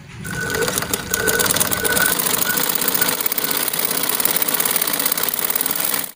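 A sewing machine stitches single-layer net fabric with a steady, fast mechanical whir and rattle that runs continuously at close range.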